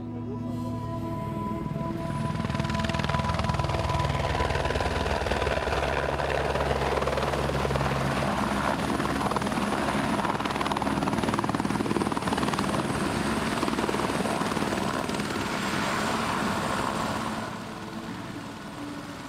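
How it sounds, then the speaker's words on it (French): A helicopter rotor thumps and whines steadily at close range for most of the clip in an alpine mountain rescue setting, then eases off slightly near the end. "tout le monde attend l'hélicoptère"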